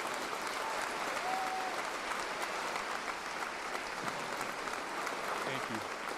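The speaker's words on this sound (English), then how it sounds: "Please give them a round of applause," A crowd in a school gymnasium applauds scholarship recipients at a high school commencement ceremony, producing a steady, dense wash of clapping that holds at an even level throughout, with faint voices mixed underneath.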